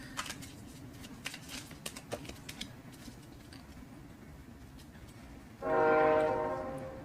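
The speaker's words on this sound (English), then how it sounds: "there comes the train" A train passes at a distance: low rumbling with scattered clicks and clacks, then a loud sustained horn blast sounds near the end and slowly fades.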